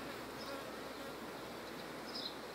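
Bees swarm around a hive frame with brood, making a dense, even buzz that stays low and constant throughout, with a few louder passes close by.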